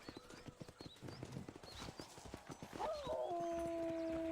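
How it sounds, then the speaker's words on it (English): A wolf howls in the Old West video game Red Dead Redemption, a long, steady, tonal howl rising up near the end after a run of horse hoofbeats clip-clopping beneath other game sounds. "Why did he play the wolf howl sound?"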